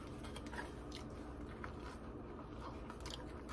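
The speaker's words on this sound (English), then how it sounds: "He eat peppers, by the way. One more bite." Crunchy bites and chewing of hot peppers, close and steady over a continuous background hum, with repeated crisp crackles of teeth breaking into the pepper flesh.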